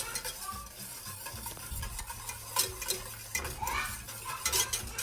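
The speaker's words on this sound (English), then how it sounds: "So you just give it a whisk." A whisk stirs sugar, cream and vanilla bean in a pot for panna cotta, giving soft, irregular scraping and swishing strokes against the metal, close but fairly quiet, with a gentle simmering hiss underneath.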